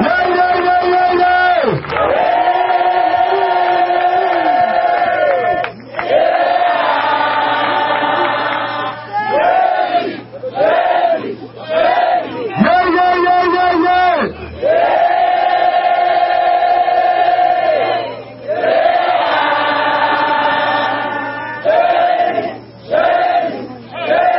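A church congregation roars and cheers in repeated loud waves of acclamation in the name of Jesus Christ, sustained shouting swelling and breaking off in rhythmic bursts, heard close and dense.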